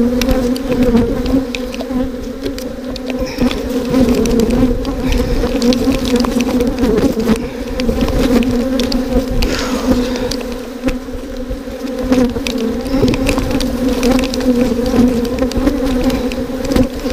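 Bees drone and buzz around an opened beehive during an inspection, forming a loud, continuous, close-up hum that holds steady for the whole stretch, with no talking over it.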